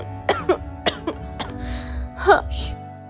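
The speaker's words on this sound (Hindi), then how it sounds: "इतनी खांसी क्यों आ रही है?" Several sharp, harsh coughs in quick bursts, close by, followed by a raspy throat-clearing sound.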